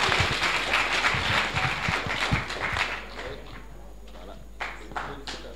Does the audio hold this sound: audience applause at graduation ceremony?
yes